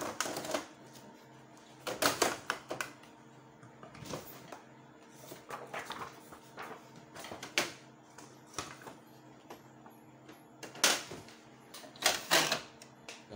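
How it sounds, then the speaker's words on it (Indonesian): A Canon G1020 ink tank printer running a print job, with intermittent mechanical clicks, clacks and whirring feed movements in irregular bursts, fairly quiet and heard alone. "kita coba buat print ya"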